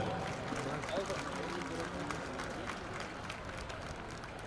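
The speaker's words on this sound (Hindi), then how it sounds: "ऐसे दिव्य कलशों के सम्मान में तालियां बजाकर उत्साहवर्धन करें।" Stadium crowd at a Republic Day state-level event in SMS Stadium claps and cheers in a broad, distant-sounding wash, steady throughout with a public-address voice faintly mixed in.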